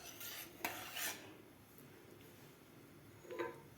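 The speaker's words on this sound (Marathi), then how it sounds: "साखर घातल्यानंतर आपल्याला व्यवस्थित हलवून घ्यायचं आहे।" A spoon scrapes and clinks against a pot as milk with sugar is stirred for an almond milkshake, with a few soft strokes and taps at a quiet level.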